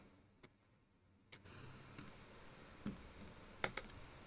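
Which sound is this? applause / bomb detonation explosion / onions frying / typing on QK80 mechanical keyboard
typing on QK80 mechanical keyboard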